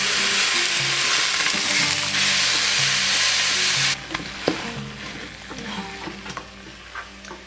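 Meat and tomatoes frying in a pan for maqlouba, a loud steady sizzle that drops sharply halfway through, followed by quieter bubbling and scraping stirs.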